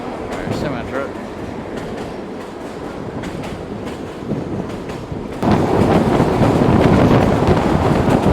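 Train running on rails near Bansko, Bulgaria, a steady close rumble with rhythmic clicking of wheels over joints, growing louder and more open partway through as if stepping between the cars, with wind buffeting the microphone.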